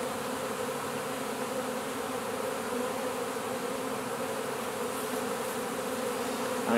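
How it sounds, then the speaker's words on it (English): A dense swarm of honey bees drones steadily at a hive during a queen release, a close, continuous buzzing that holds at an even level throughout with no voices. "there's so many bees there"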